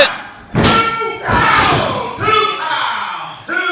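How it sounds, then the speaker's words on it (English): A wrestler's scoop slam onto the ring mat in an independent wrestling show, heard as a loud, close thud, then further heavy impacts and crowd voices with short bursts of commentary. "Big scoop slam by Ike Watts."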